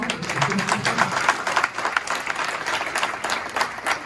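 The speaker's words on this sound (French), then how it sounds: "vous pouvez applaudir Thomas" Audience applause at a corporate Salesforce Day talk, many hands clapping in a sustained, uneven wash with a few murmured voices under it.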